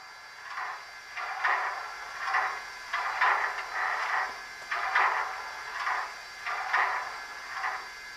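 A slow air pump on a Rapido CPR H1b Hudson 4-6-4 model locomotive with an ESU LokSound decoder gives steady, evenly spaced soft chuffs, about one or two each second, quiet and alone over faint hiss.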